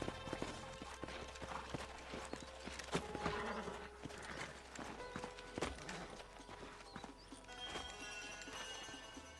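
Horse hooves clip-clop steadily amid Red Dead Redemption game ambience, with a few sharp impacts and a busy background mix.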